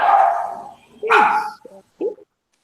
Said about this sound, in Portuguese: dá um chute nesse cachorro aí